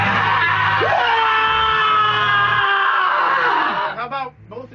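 Two people let out a loud, long joint scream that holds for several seconds, then breaks into wavering trailing cries as it fades.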